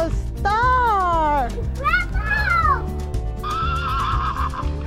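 A horse neighs loudly and repeatedly in long, wavering whinnies at a veterans' family home being revealed, with children and adults chattering and music playing throughout.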